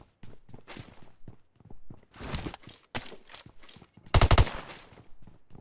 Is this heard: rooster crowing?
no